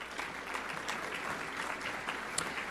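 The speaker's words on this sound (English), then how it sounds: "Please join me in applauding his presence tonight." Audience applause at the 2010 Latino Diamante Awards ceremony, a steady, dense wash of clapping from a crowd filling the room, sustained at an even level throughout without talk.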